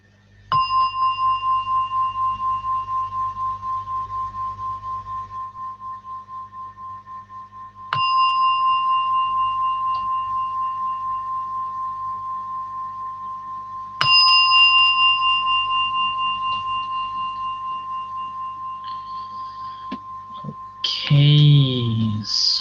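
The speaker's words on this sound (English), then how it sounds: "As you hear the gong" Struck gong or singing bowl at the close of a mindfulness meditation session, three clear metallic rings spaced several seconds apart, each sustaining a steady pure tone that slowly fades, followed by a brief burst of other sounds at the end.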